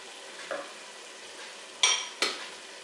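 Whole spices for chicken curry, star anise, bay leaves and cinnamon sticks, drop into a pan over a quiet sizzle, with three brief clattering stirs, the last two close together.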